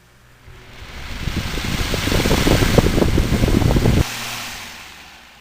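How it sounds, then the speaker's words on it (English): A 1997 Fisher Price 7-inch table fan spins slowly and alone, its soft motor whir rising with a fluttery, buffeting rumble for a few seconds before cutting to a quieter fading hum. "You only see a fan spin that slow in the movies."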